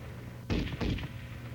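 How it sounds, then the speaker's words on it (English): M73 7.62mm machine gun firing, two sharp, loud bursts of close reports in quick succession standing out against steady background noise. "While the M73 is fully automatic, it can be fired in single shots"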